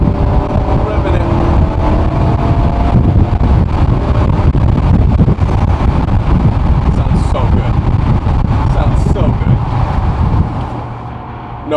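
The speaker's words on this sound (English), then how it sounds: "Let's get these windows down so you can hear. Down to 6th, down to 5th, down to 4th. Ripping it." Car engine revving hard through downshifts from sixth to fourth with the windows down on a Toronto highway, a loud continuous roar mixed with wind rush that drops away near the end.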